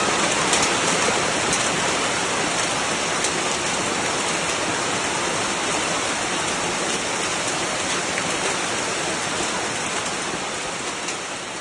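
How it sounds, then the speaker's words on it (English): Hail and heavy rain pour down over city streets in Sichuan. The roar is dense and continuous, loud and steady throughout, with no voices. "bustling streets, ancient hutongs, and wide ring roads were all engulfed by a fierce downpour of hail"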